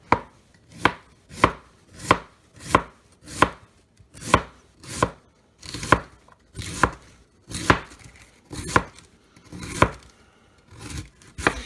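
A knife chops cabbage on a board for homemade sauerkraut, sixteen crisp even strokes about one every 0.7 seconds, close and clear with nothing else heard.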